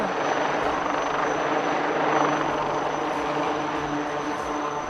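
A HAL Light Utility Helicopter hovers and backs up at an air show, its rotor producing a steady, loud whirring drone that holds evenly throughout with no pauses.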